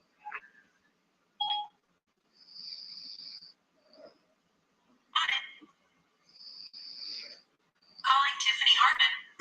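Outgoing phone call placed through Siri: a few short electronic beeps and tones followed by repeated ringback tone bursts, separated by silence, with a brief voice near the end.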